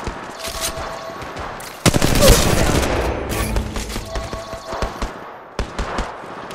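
Gunfire in the mobile game Apex Legends Mobile: rapid bursts of automatic shots and a heavier blast, loud and dense through the middle, with scattered single shots after and brief game voice lines mixed in.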